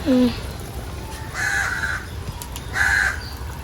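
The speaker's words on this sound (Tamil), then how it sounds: "காவம் கத்துது." A crow caws twice, harsh and fairly close, over a low outdoor background rumble near a home. A brief squeal comes at the start.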